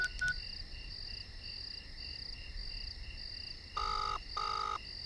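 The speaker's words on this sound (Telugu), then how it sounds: "బావా రింగ్ అవుతుందిరా." A telephone ringback tone sounds in two evenly spaced, clear electronic rings near the end of a quiet stretch. A steady cricket-like chirp from a night setting runs underneath the whole time.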